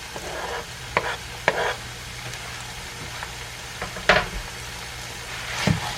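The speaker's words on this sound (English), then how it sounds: "now that our onions are translucent, like so, I'm going to put the garlic in" Garlic tipped into a pot of translucent onions for a one-pot Cajun jambalaya, giving a steady low sizzle with a few sharp scraping and clinking stirs.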